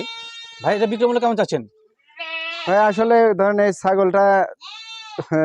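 A crossbred goat bleats loudly several times close by, harsh wavering cries broken by short pauses.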